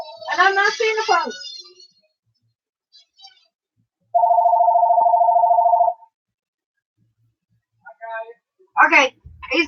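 A telephone gives one loud, sustained buzzing ring of about two seconds after a burst of high-pitched speech, with more brief voices following.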